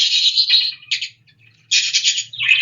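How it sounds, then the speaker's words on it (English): Nightingale warbling song, bright rapid trilled phrases in two bursts separated by a short pause, clear and close with no voices. "So this is wobbling of nightingales."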